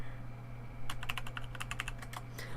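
A brisk run of computer keyboard keystrokes starts after a short quiet stretch, rapid close clicks over a constant low hum while playing World of Warcraft.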